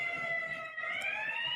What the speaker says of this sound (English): what you hear, them sirens